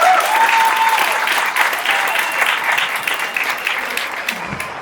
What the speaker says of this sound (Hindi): दोस्तों जोरदार तालियों के साथ।